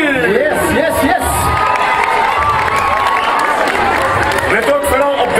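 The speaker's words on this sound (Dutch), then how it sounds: "Dames en heren, groot applaus voor Melanie" An audience at a talent show breaks into loud cheering, whoops and applause, with children shouting in the crowd. The noise stays dense and close for the whole stretch while music plays underneath.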